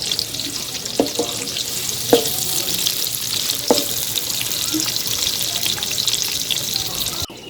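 Onions sizzle steadily in a hot pan while okra fry is being cooked, with a constant broadband hiss and a few sharp clinks of a utensil against the pan, heard up close and without talk.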